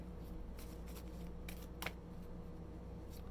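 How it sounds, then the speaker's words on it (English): Tarot cards are shuffled up close in soft, papery riffling bursts over a steady low background hum, with no one speaking. "I'm just sitting here shuffling"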